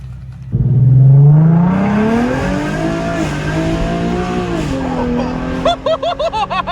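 A Nissan 370Z fitted with Z1 Motorsports cold air intakes accelerates hard, its engine note rising in a loud, close roar that holds through the gears, then ends in a rapid pulsing burble as voices chatter nearby.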